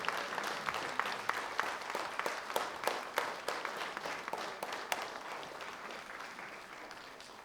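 Concert audience applauding steadily, a dense wash of many hands clapping with a few louder claps standing out, holding fairly even before easing off slightly toward the end.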